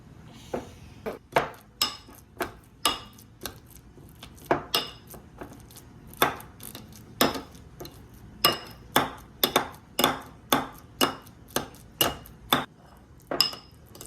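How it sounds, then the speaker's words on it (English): Bananas being mashed with a spoon or masher in a bowl for banana bread: a steady run of sharp clicking and knocking taps against the bowl, close and fairly quiet, repeating roughly every half second with no talking. "next you're gonna get a spoon or a masher if you prefer a masher, and then mash"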